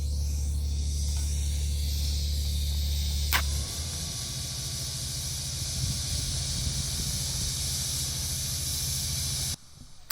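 Welder running beads on stainless steel, a steady continuous hiss and crackle that holds for about nine seconds before cutting off, with a low hum that stops partway through.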